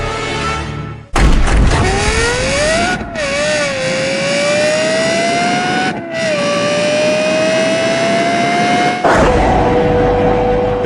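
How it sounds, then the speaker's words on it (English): A Lexus LFA V10 engine roars and climbs through rising revs, with sharp gearshift breaks and a final pitch jump, loud and close, while a voice briefly speaks at the start. "these little things pale into insignificance when you unleash its astonishing V10 engine."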